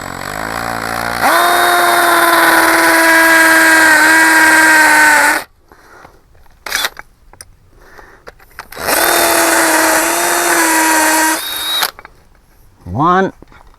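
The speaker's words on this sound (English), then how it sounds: "Ready to drill." A power drill with a concrete bit drills into concrete, whining loudly in two long sustained bursts separated by a pause of clicks and handling noises, close and harsh.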